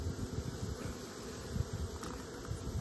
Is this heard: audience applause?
no